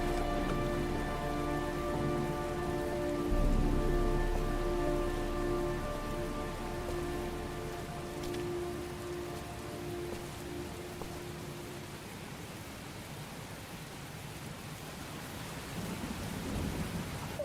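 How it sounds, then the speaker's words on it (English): Rain falls steadily in the video game Heavy Rain while a low rumble of thunder rolls through, with a sustained humming drone fading out partway; no talking. "Oh, see the rain and thunder."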